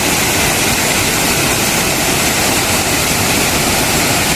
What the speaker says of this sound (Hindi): ये काफ़ी चौड़ा है झरना। आवाज़ आ रही होगी आपको